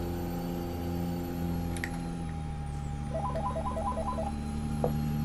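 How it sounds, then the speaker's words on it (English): A home telephone rings in short repeated electronic trills partway through, over a steady hum and engine drone from a truck driving game. "Oh, goodness, there's the home phone."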